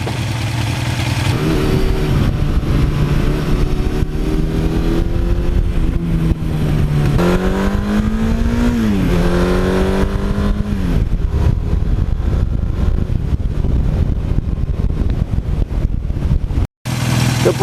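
A 1982 Suzuki GS1100E motorcycle rides along an open road, its engine droning loud and steady throughout with rising and falling pitch as it accelerates and shifts gears, close to the microphone.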